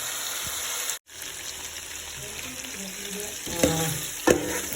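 Food frying in a pan for Kozhikode biryani, a steady close sizzle with soft stirring clatter and a couple of sharper knocks near the end, no talk.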